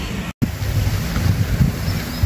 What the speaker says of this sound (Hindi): पानी यहाँ से ट्यूबवेल से शुरू हो गया चलना।